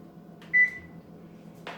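A single short electronic beep from a kitchen oven timer, clear and close, followed by a soft thud like a door or cupboard.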